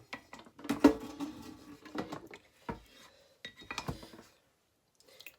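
A spoon scrapes and clinks against a pot as the last of some soup is scooped into a thermos, a series of close, irregular metallic scrapes and taps with short pauses between them.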